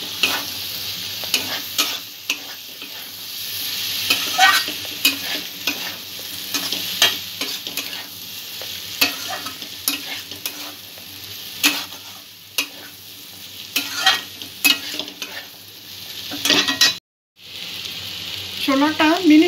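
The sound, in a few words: chickpeas being sautéed in a pan for chole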